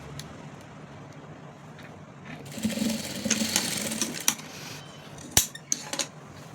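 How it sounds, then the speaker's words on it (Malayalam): Sewing machine stitching a simple frock, a short burst of steady whirring in the middle with a few sharp clicks and taps of handling around it, close and fairly quiet, no talking. "ഇനി നമുക്ക് ഇതിൻ്റെ ഈ ഇതിങ്ങനെ വെച്ചിട്ടേ ഇതാ ഇവിടെ ഒന്ന് സ്റ്റിച്ച് കൊടുക്കാം"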